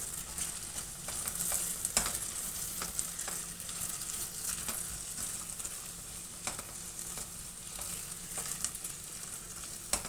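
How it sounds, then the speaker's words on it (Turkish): Steady sizzling with repeated scraping and clacking as vegetables and diced potatoes are stirred in a soup pot, a continuous close cooking sound without talk. "Şöyle karıştıralım bir."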